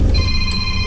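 A telephone rings loud and close with a steady electronic bell tone that holds through the whole moment, with no voices over it.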